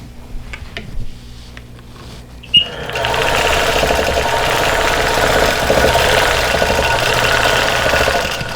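Sewing machine cross-hatch quilting over an embroidered quilt, starting after a few quiet seconds with a sharp click, then a loud, steady, close-up hum and rapid stitching rattle that keeps going without a break.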